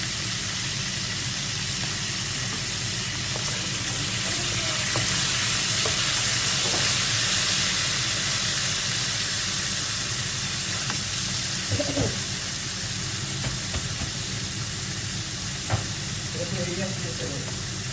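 Whole cardamom pods and other spices frying in hot oil for mutton nalli biryani, a steady close sizzle with soft crackles and occasional light stirring clinks throughout.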